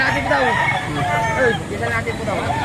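Chickens and roosters cluck and crow at a busy Batangas poultry market, close calls layered over crowd chatter and talking voices throughout.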